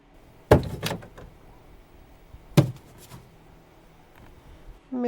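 A car door opening effect from the DaVinci Resolve sound library: two sharp latch clunks a couple of seconds apart, each with a short rattle, then a faint mechanical whir at the end.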